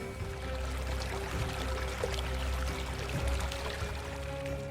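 Steady river water flowing, a soft continuous wash with faint trickling detail, moderately distant and quiet, with no voices over it.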